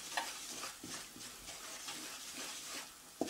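Flour toasts in a pan for a roux while a utensil stirs and scrapes it, giving soft rhythmic scrapes over a faint sizzle, close and quiet, with a sharper knock near the end.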